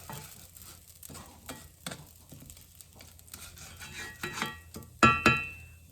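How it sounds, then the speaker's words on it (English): Homemade Rice a Roni browning in a pan: a spoon scrapes and stirs the dry rice and pasta through a light sizzle, with scattered clinks and one louder clatter near the end. "So I'm going to continue to stir that around and try to let some more of it brown."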